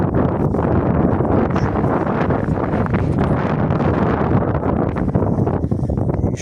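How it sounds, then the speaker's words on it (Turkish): Strong wind buffets the microphone continuously in an orchard of young saplings, a loud rumbling roar with gusty rustling and no voices. "videoda ne kadar belli eder bilmiyorum ama rüzgar da var"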